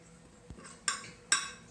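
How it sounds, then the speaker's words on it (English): A fork clinks against a dish while stirring flour, giving three small sharp taps about a beat apart, quiet and close, with a soft scrape before them. "I'll use the fork first to kind of stir up the flour"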